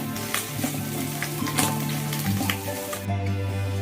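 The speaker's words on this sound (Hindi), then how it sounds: "उसे भी हम इसमें डाल देंगे और इसे अच्छे से चलाते हुए थोड़ा सा भून लेंगे" Chopped ginger frying in hot oil in a pan for ring samosa filling, a steady close sizzle with scraping bursts from stirring throughout.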